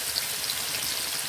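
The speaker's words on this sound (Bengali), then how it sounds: "টমেটো কয়েক সেকেন্ড নেড়ে নিয়ে বেটে রাখা মশলাটি এখানে দিয়ে নিচ্ছি।" A ground spice paste fries with tomatoes in a pan, a soft steady sizzle and fine crackle heard close and continuous through the short moment with no talk.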